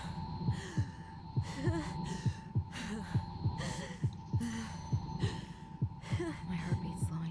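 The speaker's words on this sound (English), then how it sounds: "My heartbeat's slowing down." A rhythmic heartbeat thumps steadily in a horror video game, about two beats per second, low and throbbing under a droning hum, with faint breathy sounds mixed in.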